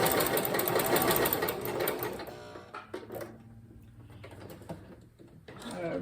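A sewing machine stitches a fabric seam in a fast, steady, close whir for about two seconds, then stops, leaving faint clicks and handling noises.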